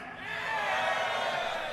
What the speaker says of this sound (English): If you play RuneScape 3, give me a cheer.